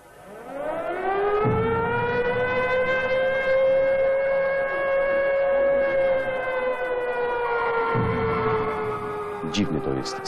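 A loud civil-defence style factory siren wails at the Telpod electronics plant in Kraków during a strike, rising to a long sustained tone before winding down and starting again, with brief background noise.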